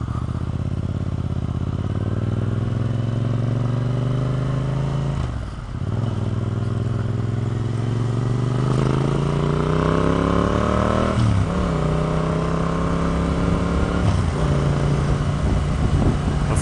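A new motorcycle rides along open roads with a loud engine close by. It revs up in rising sweeps, drops at each gear shift, and dips sharply once around the middle.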